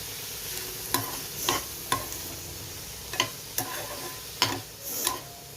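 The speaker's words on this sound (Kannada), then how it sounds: "ಇದೆಲ್ಲ ಹಾಕಿ ಚೆನ್ನಾಗಿ ಫ್ರೈ ಮಾಡ್ತಾಯಿದ್ದೀನಿ" Spices, fresh coriander and salt fry in a pan for a moth bean dish, a steady sizzle punctuated by regular spoon taps and scrapes as they are stirred, nearby and alone.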